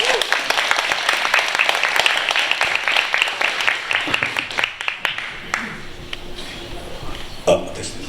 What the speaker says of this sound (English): Big round of applause, please, for these two gentlemen.